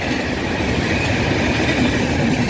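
A train runs over a railway crossing at a permanently closed gate, giving a steady, loud rumble with rail noise and faint wheel clatter throughout, with no voices.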